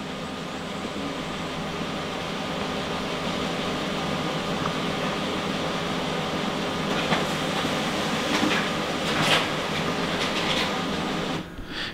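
A Brother DCP L2550DW printer prints a letter-size page with a steady, close mechanical whir and rumble that runs unbroken, then cuts off abruptly near the end.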